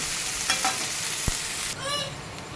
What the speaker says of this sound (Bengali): রসুন লঙ্কা দিয়ে দিলাম। এটা একটু ভেজে নেব।